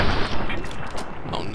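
Gunfire crackles in Fallout: New Vegas as a dense, loud burst of rapid shots, with a voice speaking over it.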